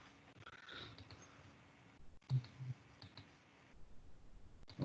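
Computer mouse clicking during a virtual meeting, a handful of small, sharp clicks scattered through a quiet room, with a louder knock or two near the middle and no talk.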